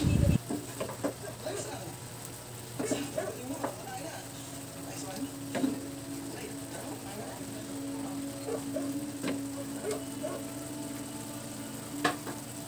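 Pork cooks in a pan with a faint, continuous sizzle and sparse pops and clicks, while a low hum and occasional utensil knocks sit nearby.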